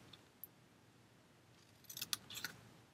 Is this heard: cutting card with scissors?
yes